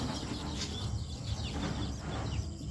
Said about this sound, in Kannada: ಪಕ್ಷಿ ಕಲರವ ಕೇಳ್ತಿರ್ಬೋದು